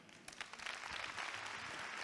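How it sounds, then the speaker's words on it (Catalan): An audience at a roller skating club festival claps in a fairly quiet, distant burst that builds over two seconds into a steady patter. "un fort aplaudiment"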